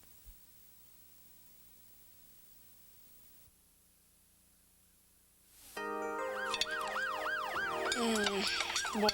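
A wailing siren suddenly rises and sweeps up and down loudly after several seconds of faint hiss and static.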